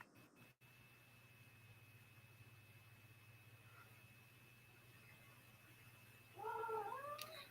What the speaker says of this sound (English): my cat is flipping out